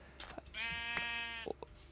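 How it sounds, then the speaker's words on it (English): A single Minecraft sheep bleat rings out, a wavering nasal call lasting about a second amid faint clicks and background noise. "I hear sheep."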